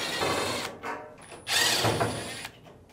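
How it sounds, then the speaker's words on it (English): A power drill whirs in several short bursts, close by, with brief pauses between runs as Phillips screws are driven out of the front panel of a Fisher & Paykel dryer. "start by removing the two Phillips screws on the front."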